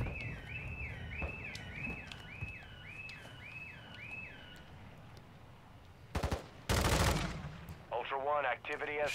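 Gunfire in the video game Call of Duty: Modern Warfare II, with bursts of loud shots and blasts near the end over a rising and falling siren-like tone and background game noise, while a player talks.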